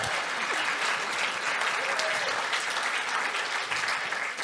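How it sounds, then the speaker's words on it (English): A gathering at a New Thought talk on healthy living and a sustainable planet bursts into a sustained round of applause, dense clapping filling the room at an even level before tapering slightly at the end. "Give me a round of applause,"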